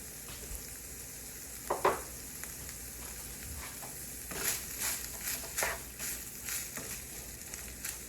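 Ground beef frying and browning in a pan, a steady soft sizzle with occasional stirring scrapes and crackles, faint and close.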